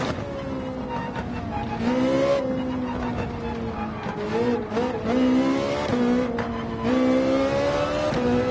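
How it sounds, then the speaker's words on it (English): A race car in Gran Turismo 7 accelerating hard, its engine note climbing and dropping through repeated revs and shifts, loud and close, with a hint of tire noise. "Putting the accelerator back on when those rear tires are on the candies."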